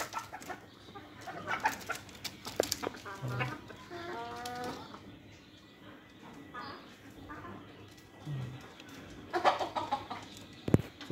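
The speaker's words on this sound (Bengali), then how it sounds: "অনেক সুন্দর সুন্দর মুরগি আছে খামারে" Hens cluck and cackle on a poultry farm in irregular bursts, some calls near and sharp, with a voice talking faintly at times beneath the birds and a few abrupt knocks.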